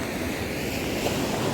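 Surf rolling onto a pristine Goa beach on the Arabian Sea makes a steady, loud wash of noise, with wind buffeting the microphone throughout.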